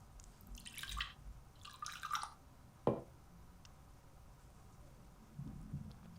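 Gin pours into a glass in the game Backbone, two short splashy bursts of liquid over a quiet room hum, followed by a single sharp clink of glass.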